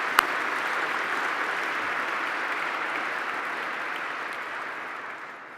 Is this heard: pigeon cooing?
no